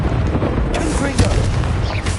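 Blasting-curse explosion from the Confringo spell in the PS5 game Hogwarts Legacy, a booming blast inside dense, noisy combat sound with a voice present.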